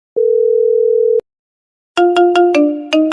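A mobile phone call tone: one long steady beep, a pause, then a quick run of bright electronic ringtone notes, loud and close with no talk over it.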